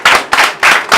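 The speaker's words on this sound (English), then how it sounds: "I want us to clap for Mr." Applause for Mr. Ali breaks out in short bursts, crowd clapping in quick loud swells with brief dips between them.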